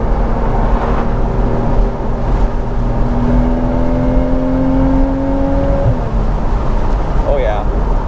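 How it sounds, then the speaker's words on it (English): A Porsche Boxster 981's 2.7-litre six-cylinder engine revs steadily upward in a long climbing whine, then drops off, with heavy road and wind noise throughout. "I never knew a six-cylinder could sound this good till it drove a Porsche."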